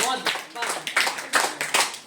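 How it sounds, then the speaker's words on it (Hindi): A classroom of students clapping for a classmate in a lively, uneven burst of hand claps, with a teacher's voice speaking over the applause. "बहुत बढ़िया, जोरदार ताली"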